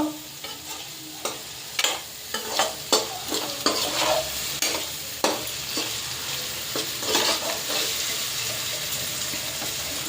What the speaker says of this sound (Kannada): ಅಟ್ಲೀಸ್ಟ್ ಇದನ್ನು 2 ಮಿನಿಟ್ಸ್ ಆದರೂ ಫ್ರೈ ಮಾಡ್ಕೊಳ್ಳೇಬೇಕು.